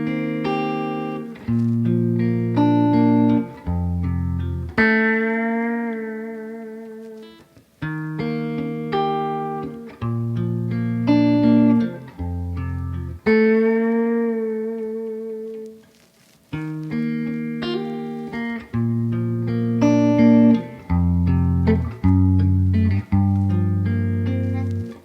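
An electric guitar plays the rubato intro of a song, slow, freely timed chord phrases and melodic bends with pauses between passages, clear and up close with no talking.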